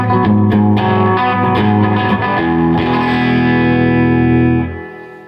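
Sustained electric guitar chords through a Carr amplifier with reverb and no delay, a few strummed attacks early on, then a long ringing chord that fades out at the end.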